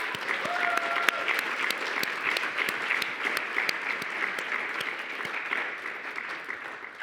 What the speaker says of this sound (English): Let's give the organizers a round of applause.